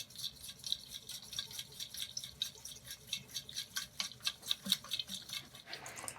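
Fluid drips and trickles from the bottom of a 2016 FOX Float 34 bicycle suspension fork, faint and close, in quick irregular patters that quicken toward the end.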